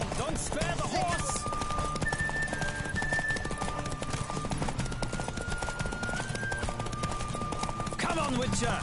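Rhythmic hoofbeats of a galloping horse in Witcher 3, a fast continuous clip-clop close by under a constant dense layer of game sound and music.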